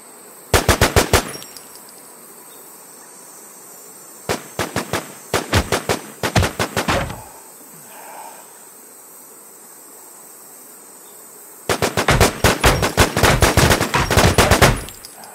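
Gunfire in the WarZ video game rattles out in rapid automatic bursts, loud and sharp, in three clusters separated by quiet gaps.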